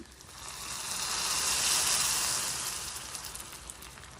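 Ingredients frying on a low flame in a pan for jeera rice kheer give a soft, even hiss that swells through the middle and eases off, close and unbroken, with no speech.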